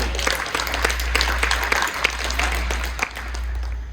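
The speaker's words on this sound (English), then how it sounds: "Give him a big round of applause." An audience claps steadily for several seconds, dense applause over a low constant hum.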